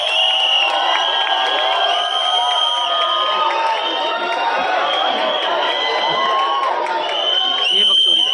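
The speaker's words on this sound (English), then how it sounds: "दोस्तों, तालियों के साथ।" At a film trailer launch event, a packed audience cheers, whoops and shouts continuously, with a dense layer of excited voices and screams that stays loud and close throughout.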